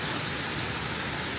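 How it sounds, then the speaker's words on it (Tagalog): Small waterfall pouring steadily with a dense, even rush of water, continuous and fairly close, with no voices. "Meron din doon maliit na waterfall doon"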